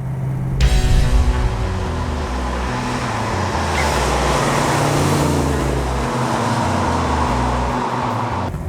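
A 1973 Ford XA GT Falcon Phase 4 coupe with a four-speed top loader, its V8 engine running with a deep, rough, lumpy rumble heard up close, a sharp rise in revs near the start, then a steady grumbling idle.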